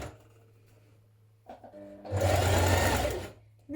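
Sewing machine stitching binding in place on an Elley knit dress, a short close burst of rapid whirring stitches after a brief quiet hum and a few clicks.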